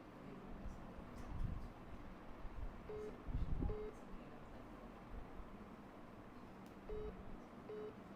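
A phone gives faint paired electronic beeps, repeating twice a few seconds apart, under low room noise and quiet talking during an online class.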